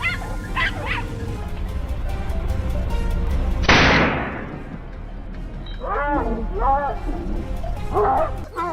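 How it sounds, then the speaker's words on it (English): Hunting dogs bark and yip in a pine forest during a wild boar hunt, a few sharp calls near the start and a run of repeated barks toward the end, with a loud sudden burst in the middle and background noise throughout. "the sound of the hunting dogs echoed once again"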